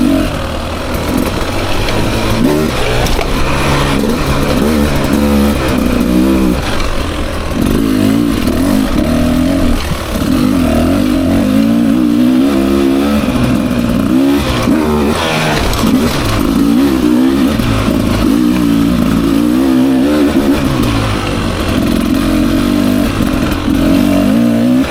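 A 2024 Beta 300 RR Race Edition two-stroke dirt bike rides single-track trail, its engine droning and revving steadily up and down close by for the whole stretch, with rattling and clatter from the terrain.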